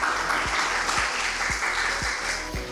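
Steady applause from a crowd at a farmers' forum fills the clip, with a few louder claps standing out at regular intervals.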